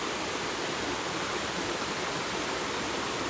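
Water runs steadily over rocks in a stream among small oak trees near Aberfoyle in the Trossachs, a dense, continuous rushing wash that stays close and even throughout with no voices.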